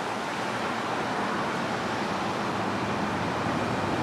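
Constant broadband roar of road traffic on Bacon's Bridge Road after a tropical storm, steady and moderately loud with no distinct events.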